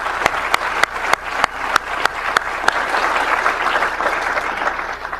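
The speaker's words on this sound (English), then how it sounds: "please give them a warm round of applause for their time tonight" Audience at a 2013 tech innovation finals event applauds the judges, a dense steady clapping that starts with a few sharp, separate claps and swells into sustained applause from a crowd, with no talking.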